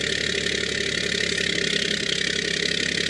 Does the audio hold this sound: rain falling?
no